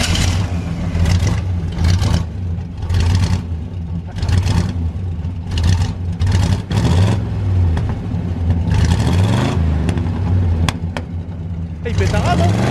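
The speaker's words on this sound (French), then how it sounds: "Tu nous le démarres un coup avant la fin de la vidéo? Histoire d'entendre le 5 litres" The 5-litre engine of a 1978 Chevrolet Cheyenne rumbles loudly and revs up repeatedly in surges, with people talking over it.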